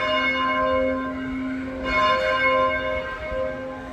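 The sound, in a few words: church bell rung for mass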